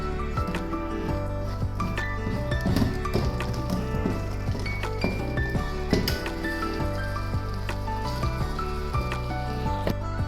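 A spoon clinks and scrapes repeatedly against a pot as a thick rice-flour mixture is stirred, the knocks steady and close, with faint wet sloshing.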